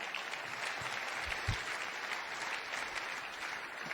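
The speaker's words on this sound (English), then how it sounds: "You can clap for that." Audience applause at an education initiative talk as schools reach good standing: a steady wash of clapping from a crowd, continuous and fairly even throughout, with no speech.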